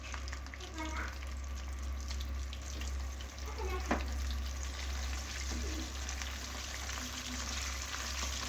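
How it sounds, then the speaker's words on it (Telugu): Pieces of chicken for KFC-style fried chicken on their second fry in oil, a steady, moderate sizzling hiss over a low background hum, with occasional faint clinks. "బాడీ ఫ్రై చేసుకుని మళ్ళీ సెకండ్ టైం ఫ్రై చేసుకుందామండి."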